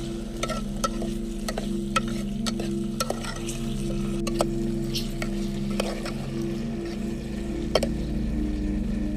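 Green chillies, whole garlic and tomato frying in a pan over an outdoor jungle fire, giving a steady close sizzle with a low fire rumble beneath and occasional sharp clicks and stirring taps.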